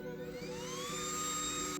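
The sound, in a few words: small handheld fan blowing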